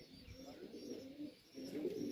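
Tippler and Serbian breeder pigeons cooing softly in a loft in Melbourne, low throaty coos repeating close by, fairly faint and with no other sound over them.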